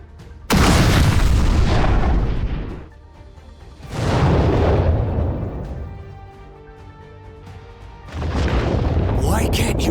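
A Plasma Cannon attack in the My Hero Academia: All's Justice video game lets off three loud booming blasts, each a roaring surge that swells and slowly decays over a couple of seconds. The booms come at roughly four-second intervals.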